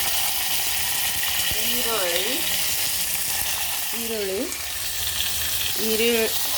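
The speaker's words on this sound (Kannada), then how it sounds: "ಈರುಳ್ಳಿಯನ್ನು ಹಾಕಿ ಫ್ರೈ ಮಾಡ್ತಾ ಇದ್ದೇನೆ" Onions sizzle steadily in hot oil in a pan for vegetable pulao, a constant crackling fry with a few brief squeaky tones rising over it.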